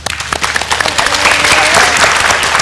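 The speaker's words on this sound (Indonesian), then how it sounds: "Oke, tepuk tangan untuk Dr." A studio audience on a television health talk show applauds a doctor with dense, close clapping that builds slightly and holds steady over a few seconds.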